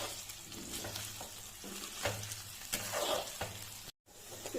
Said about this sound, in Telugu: ఇప్పుడు డీప్ ఫ్రై చేసుకుందాం ఆయిల్లో.